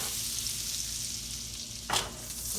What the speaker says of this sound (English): Now I'm gonna throw the shrimp in here. I want to get this really hot though